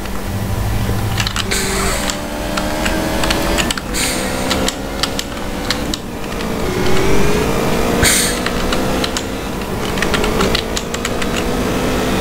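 Motorcycle engine in GTA San Andreas, a steady loud drone with shifting pitch as the bike is ridden, with a few sharp clacks and bursts over it.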